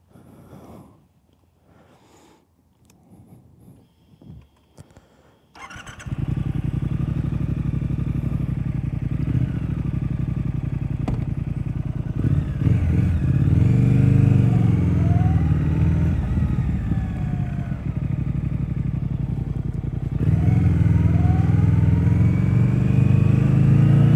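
A Triumph Speed Twin 1200 motorcycle runs steadily and loud after a few quiet seconds of faint clatter, its engine droning under way with rising and falling revs as it rides along, no voices present.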